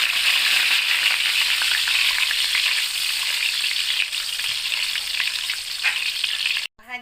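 Curry leaves and spices frying in hot oil in a pan while being stirred, a loud, dense continuous sizzle close up that cuts off abruptly near the end.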